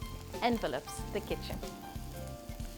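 Aromatics sizzling in a pan as the base for a vegetarian corn chowder, a steady low crackle running under a person's talking throughout.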